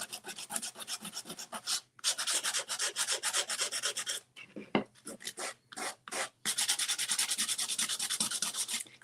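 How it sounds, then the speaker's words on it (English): Sandpaper rubs over a painted wooden frame to distress it, in quick rasping strokes grouped into bursts with brief pauses between, close and fairly loud with no talking. "as you sand and distress some more, it's going to show the colors that you use underneath."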